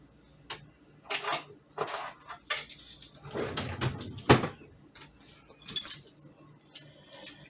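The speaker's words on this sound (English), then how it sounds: "Let me get a measuring spoon" Metal measuring spoons and cutlery clink and jangle as they are rummaged from a kitchen drawer while making pancakes from scratch, with a series of close, bright rattles and one louder clatter midway.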